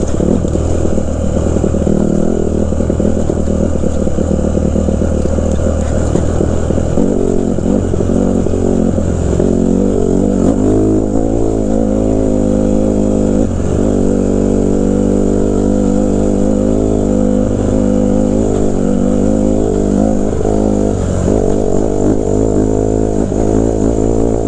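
A 2014 Honda CRF 150R dirt bike, ridden and revved at close range, its loud, buzzy engine rising and falling continuously through throttle blips and gear changes, with wind noise throughout.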